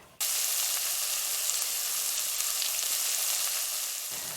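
Onions sizzle loudly in a hot pot with beef, a steady, close frying hiss that starts abruptly and holds without pause.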